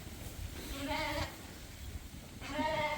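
Ewes and lambs in a sheep barn, with two drawn-out bleats a second or so apart standing out over low background shuffling.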